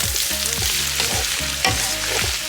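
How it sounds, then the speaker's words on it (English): Vegetable fried rice with green onions sizzles loudly in a pan while being stirred continuously, with rhythmic, regular scraping strokes about every quarter second over a constant close frying hiss. "You want to keep stirring and stirring and stirring. You don't want this to get burnt."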